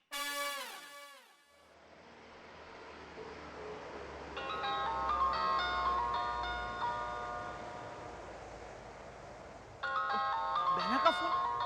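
A bright electronic phone ringtone chimes in a repeating melodic pattern for several seconds, pauses, then starts again over a low background hum.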